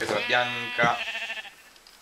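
Sheep bleating in the Minecraft video game, with two short wavering bleats close up, one after another, while someone talks in Italian over them.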